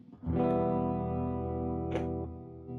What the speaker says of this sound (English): Here's bypass, and here's the reverb.